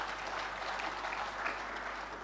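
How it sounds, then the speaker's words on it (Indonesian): Steady applause from a large audience at a public ceremony in East Java on World Anti-Corruption Day, a dense even wash of many hands clapping that lasts throughout, heard from a distance with no voices on top. "Tepuk tangan dong untuk Jawa Timur."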